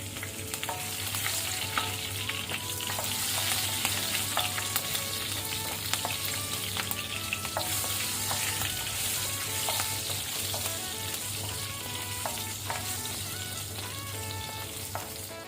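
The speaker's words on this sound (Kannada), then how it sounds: "ಲೋ ಫ್ಲೇಮಲ್ಲಿ ಹಸಿಮೆಣಸು ಒಳ್ಳೆ ರೀತಿ ಫ್ರೈ ಆಗಿದೆ." Green chillies frying in hot oil over a low flame for tomato rice, a steady close sizzle with scattered crackles and light stirring clicks throughout, no voices.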